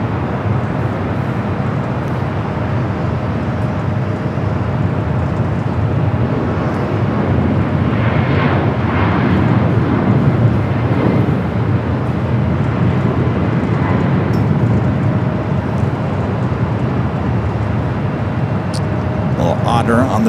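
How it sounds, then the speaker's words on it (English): A heavy DHL ABX Air Boeing 767-300ER converted freighter, 36 years old, departs from the south side at LAX, its engine roar swelling midway over a steady background rumble, with people talking through it. "Do have a heavy going to be taking off on the south side at DHL ABX Air Flight 403"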